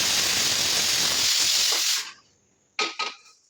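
A pressure cooker lets off a loud, continuous hiss of steam for about two seconds, then falls quiet, followed by a couple of short clattering knocks.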